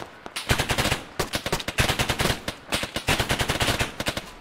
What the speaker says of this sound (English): just gonna try and shoot in between the trees